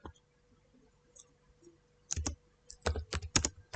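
After a quiet moment, a series of sharp, close keystrokes taps out on a computer keyboard as text is entered into an Excel spreadsheet, with the clicks arriving in quick irregular clusters.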